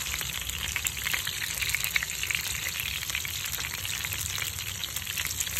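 Vietnamese squid cakes frying in a pan of hot oil, a dense continuous sizzle with crackling pops holding steady from start to finish and nobody talking.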